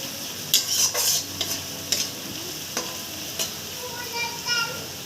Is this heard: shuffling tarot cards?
no